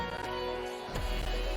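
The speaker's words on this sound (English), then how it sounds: "here you have a new kick drum that plays here" A deep, booming electronic kick lands under a dense, sustained synth mix, heavy and close over a short stretch.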